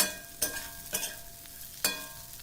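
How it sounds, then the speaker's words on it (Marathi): Potato vegetable with roasted peanut powder stir-fried in a pan: three distinct scraping stirs over a faint low sizzle, close and fairly quiet, no talking. "भाजी व्यवस्थित परतून घेऊया"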